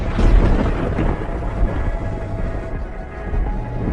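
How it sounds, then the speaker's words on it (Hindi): Deep rolling thunder rumbles outside over steady rain, loud and continuous with a heavy low-end boom near the start and no voices. "देखो बाहर स्टिल बारिश हो रही है।"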